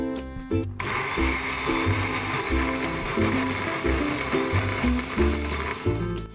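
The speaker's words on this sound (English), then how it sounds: "Now add the first half of the neutral oil and blend." A conventional blender grinds ground sesame seeds with salt and neutral oil, running loud and steady with a churning, rattling motor drone after a brief start.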